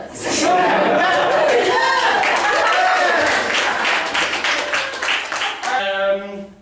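Attendees of a hypnosis and NLP bootcamp course give a round of applause, a dense wash of clapping mixed with voices, laughter and chatter, ending in a brief tonal sound.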